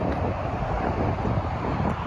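Steady wind in Florida buffeting the microphone outdoors, a continuous low rumbling roar with no breaks, fairly loud throughout.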